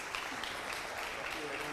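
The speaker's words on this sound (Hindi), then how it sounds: "तालियां बजती रहनी चाहिए।" Continuous audience applause forms a dense, even wash of clapping with no gaps, fairly faint throughout.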